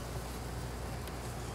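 A honey bee swarm hums inside a feeder atop an 8-frame Langstroth medium hive, a dense steady buzzing close by and alone with no talk.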